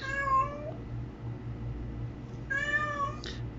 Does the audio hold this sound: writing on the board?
no